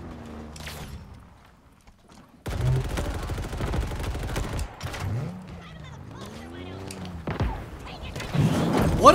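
Enemy gunfire in Halo Infinite hits as rapid, bursty shots and thumps after a quiet start, mixed with game effects and a player talking over the action.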